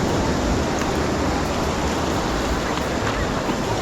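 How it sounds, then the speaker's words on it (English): Heavy surf from the Gulf of Mexico breaking steadily on a Lido Key beach after Hurricane Idalia, a loud, continuous roar of churning waves close by with no pauses. "Pretty big waves still breaking over here too."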